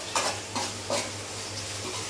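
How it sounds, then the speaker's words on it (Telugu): Onion and tomato fry in a pan for a fish curry, a soft background sizzle punctuated by a few metallic scrapes and taps of a spoon against the pan; fairly quiet, with no voices. "ఇది కొద్దిగా బాగా ఫ్రై అవ్వాలి."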